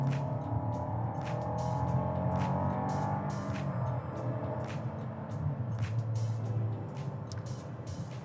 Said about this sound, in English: It actually sounds better at wide open throttle than it sounds when you're sort of partially accelerating. It gets a little bit of a growl going there